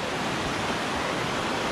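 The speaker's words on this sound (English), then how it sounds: "it's like many waterfalls." Constant roar of rushing waterfalls heard from a trail bridge, a loud dense unbroken wash of falling water with no talk over it.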